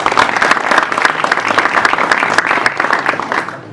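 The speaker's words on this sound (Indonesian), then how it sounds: "Kasih tepuk tangannya dong." Steady applause from an audience at a boxing press conference for the third Ring Tarkam event, dense, even clapping filling the room, loud and close, fading slightly at the end with some voices faintly under it.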